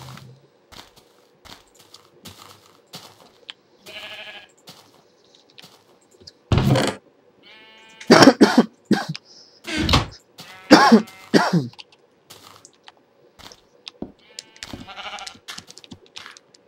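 Sheep bleating in the video game Minecraft, several short nasal bleats scattered among game noises and clicks, moderately loud with gaps of quiet between them and no talk.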